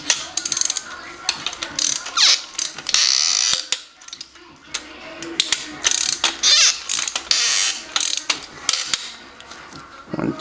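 A ratchet torque wrench clicks in quick bursts while tightening main bearing bolts on a BRZ engine, close and loud, with repeated runs of sharp ratcheting separated by short pauses.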